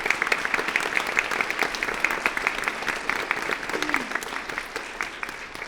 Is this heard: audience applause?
yes